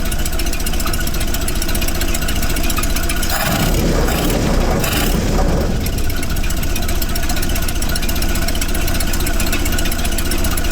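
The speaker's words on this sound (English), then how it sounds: "we definitely have an exhaust leak out of the center" A 1931 Plymouth engine with an exhaust leak at the center runs loud and close with a rough, ticking, puffing rumble; a burst of heavier noise swells midway, then the steady idle resumes.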